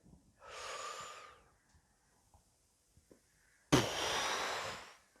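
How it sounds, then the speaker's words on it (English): A deep breath drawn in, then a pause and a long, forceful exhale, both close and airy with a short silence between them and no talking. "take a deep breath in, hold it, and then breathe out"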